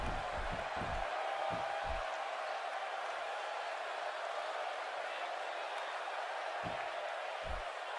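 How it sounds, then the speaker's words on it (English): In a WWE wrestling video game, an arena crowd keeps up a steady, distant roar throughout, with a few dull low thumps near the start and end. "Would you listen to this crowd?"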